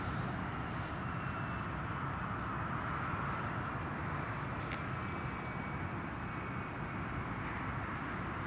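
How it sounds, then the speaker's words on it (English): A British Airways airliner taxiing at Newcastle International Airport, heard as a faint, distant, steady jet engine drone that holds level throughout, with no voices. "British Airways is just taxiing."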